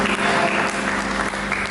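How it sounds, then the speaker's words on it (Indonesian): A brief burst of congregational clapping in a church service, dense and fairly loud, with a sustained tone from instruments or voices underneath. "berikan tepuk tangan yang meriah bagi Yesus"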